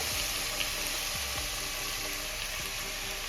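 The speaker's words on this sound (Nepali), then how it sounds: "अब म यसमा अरू मसलाहरू हालेर एकैछिन भुट्छु।" Ginger, garlic and ground spices sizzle and fry steadily in a pan while goat meat curry with green pumpkin is prepared, a constant close hiss with small crackles and no talking.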